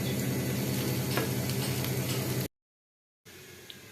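Green beans sizzle and fry steadily in a pan with masala, a loud continuous crackle that cuts out briefly before resuming more quietly.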